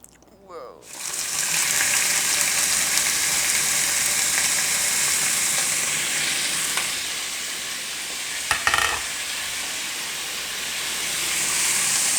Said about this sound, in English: Going to cook the shrimp till they're pink